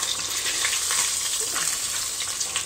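Bacon deep frying in hot grease while being stirred with a pancake flipper, a loud, dense crackling sizzle that holds steady from start to finish with small bursts of popping.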